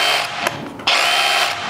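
DeWalt DCH263B cordless rotary hammer drill running in bursts, a steady whining motor with a brief pause before it revs back up, loud and close with no talking.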